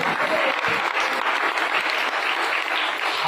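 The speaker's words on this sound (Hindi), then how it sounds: "ताली प्रभु को महिमा करो" Church congregation claps in praise, a dense continuous wash of applause heard close and steady throughout.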